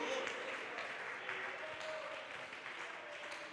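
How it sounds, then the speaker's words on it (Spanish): A church congregation claps steadily in a dense, continuous wave of applause that fills the whole stretch at an even, moderately loud level. "Aplauda al Señor en esta hora en gratitud."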